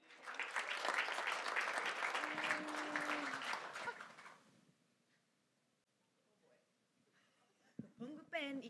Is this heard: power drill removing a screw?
no